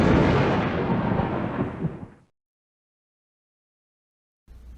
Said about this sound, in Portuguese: Chuva, trovões.